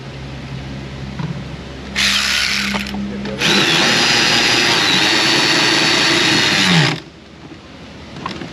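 A power tool drives fasteners into a 2010 PT Cruiser during a repair. Two short, loud bursts come close up, then one long sustained whir lasting several seconds, with quiet workshop noise before and after.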